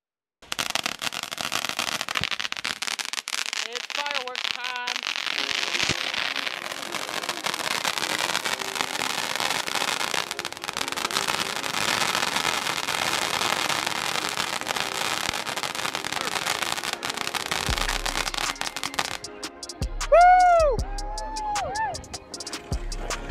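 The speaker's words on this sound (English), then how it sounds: "just watch what kind of fireworks we used this year" Consumer fireworks from TNT, Apple and Phantom brands at an Independence Day celebration: crackling bursts and popping through a long stretch, with whistling shots and loud bangs near the end.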